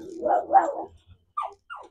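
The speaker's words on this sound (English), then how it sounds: "My dog's about to go crazy." A dog growls low and rumbling for about a second, then lets out two short, higher barks, heard close in a quiet space during smoker preparation.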